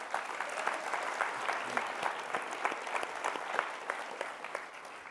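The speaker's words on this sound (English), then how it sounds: "Round of applause, please, for Roy." An audience claps for an Amazon Studios executive at a television festival session, a steady round of applause with distinct individual claps audible in a moderate-sized room, no voices.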